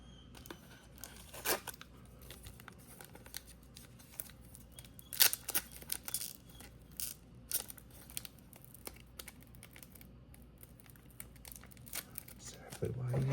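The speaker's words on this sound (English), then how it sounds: "Exactly why I use the scissors." Scissors snip and tear through stiff card packaging on a trading-card box in scattered irregular bursts, with crinkling between cuts and a voice now and then.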